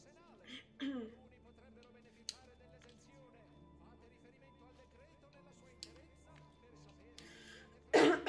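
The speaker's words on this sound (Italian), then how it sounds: "scusate se c'è la mia tosse di sottofondo" A few scattered coughs and throat clearings in a quiet room, with one loud close cough at the end, during Assassin's Creed II gameplay commentary.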